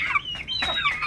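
Backyard Bangkok chickens cluck close by in a short burst of two or three clipped, nasal calls, with no one speaking.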